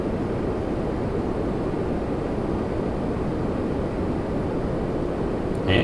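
An airliner at Toronto Pearson on a hot day starts its takeoff roll on runway 33 left, heard as a steady, broad engine roar that holds at an even level and swells slightly at the very end.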